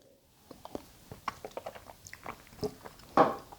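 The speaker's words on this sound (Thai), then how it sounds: "มันมีชิ้นที่เคี้ยวง่ายกับชิ้นที่เคี้ยวยากอยู่ด้วยนะครับ" Coconut pieces from an Oishi green tea drink being chewed close up, a run of soft crunchy bites and chews with a louder burst near the end, no talking.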